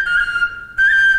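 A Dagestani folk whistle flute of the svirel type plays two sustained, piercing high notes, loud and close, with a brief softer gap between them and no voices.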